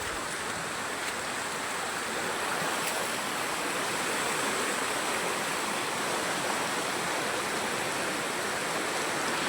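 A flooded stream rushes by up close as a dense, steady torrent of water, loud and unchanging for the whole stretch, with no voices over it.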